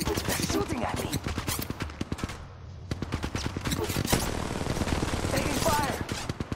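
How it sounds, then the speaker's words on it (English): Rapid automatic gunfire from Apex Legends Mobile during a ranked match, dense bursts firing almost without pause apart from a brief lull, loud and close, with voiced callouts mixed in. "They're shooting at me!"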